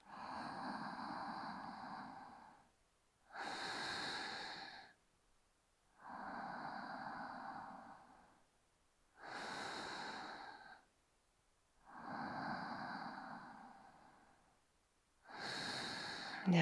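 Slow, deep breaths during a yoga neck exercise, long airy inhales and exhales alternating in an even rhythm, close and fairly soft, with no talking.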